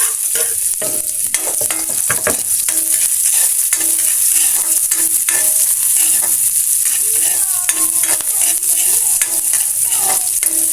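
Ginger, onion and garlic sizzle steadily in a hot pan for fish tinola, with occasional scrapes and stirs of a utensil over the continuous frying hiss.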